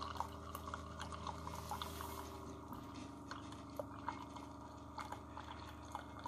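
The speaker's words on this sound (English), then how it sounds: "You can hear like a pump kick on." A Mr. Coffee BVMC-SC500-2 K-Cup single-serve coffee maker brews with its pump running, giving a steady low hum under irregular trickling, dripping and gurgling of water, close and fairly quiet, with no talk.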